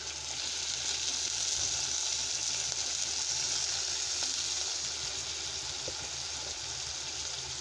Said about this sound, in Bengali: দিয়ে দিলাম একটু আদা রসুন বাটা।